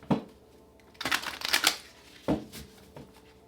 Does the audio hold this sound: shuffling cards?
yes